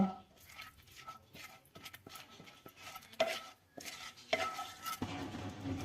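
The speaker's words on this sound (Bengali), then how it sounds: "জিরে, শুকনো লঙ্কা, তেজপাতা। এটাকে আমি একটু ভেজে নিব।" Cumin, dry chilli and bay leaf frying in hot mustard oil, stirred with a utensil that taps and scrapes the pan in a quick rhythm over a soft sizzle, close and fairly quiet, with no speech.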